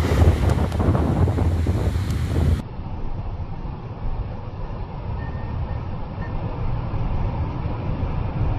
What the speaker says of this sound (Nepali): समुद्रै समुद्र, तपाईँले आँखाले भ्याइ नभएको समुद्र देख्न सक्नुहुन्छ।